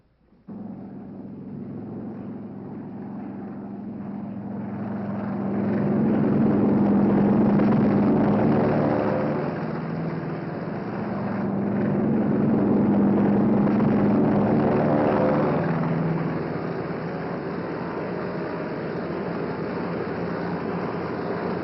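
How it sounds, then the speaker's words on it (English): WWII carrier planes taking off from a flight deck into a strong trade wind, a sustained loud engine roar swelling twice as aircraft pass, continuous without talk, with a muffled archival tone. "Our planes strain forward to rise into it. Our entire air group thunders out behind the group commander."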